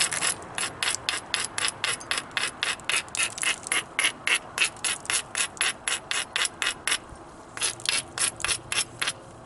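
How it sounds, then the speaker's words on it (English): Dacite stone scraped in a fast, even rhythm of gritty strokes while its platform edge is ground for flint knapping, close and clear with a brief pause near the end. "Grind the rest of the stone too while I'm at it."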